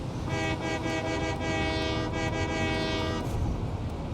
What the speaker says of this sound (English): There's a train whistle in there.